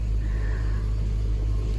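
A BMW X5 with a six-speed manual gearbox idles with a steady, deep, low rumble, even and unbroken throughout, close by with no voices.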